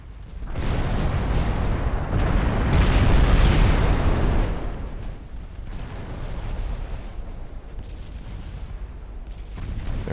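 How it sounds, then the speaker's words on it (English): Ship secondary guns firing at transports in Ultimate Admiral Dreadnoughts, heard as a rolling, booming barrage that swells to a heavy roar early on, then settles into dull repeated thuds and rumble. "port side secondaries should be firing at the transports very soon"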